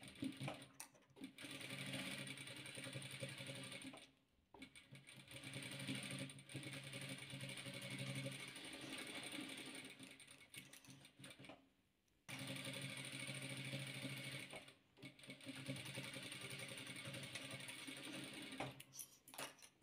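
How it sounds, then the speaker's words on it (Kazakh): A sewing machine stitches a patchwork square in quick, steady whirring runs with a mechanical clatter, stopping briefly several times before starting again, close and alone. "Міне қыстырып алған шаршымызды енді тігеміз."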